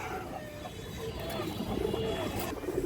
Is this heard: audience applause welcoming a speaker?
no